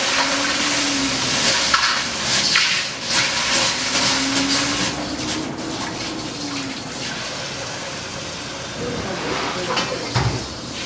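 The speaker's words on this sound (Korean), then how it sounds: "찬물에 한번 담금질 하듯이 헹구시면" Hot steel wok being rinsed in cold tap water in a Chinese cooking school kitchen, giving a steady running-water wash with hiss and faint sizzle throughout, with low speech murmuring underneath.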